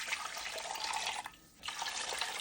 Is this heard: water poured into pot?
yes